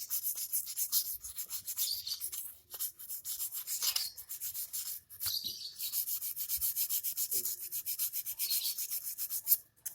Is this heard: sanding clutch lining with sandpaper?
yes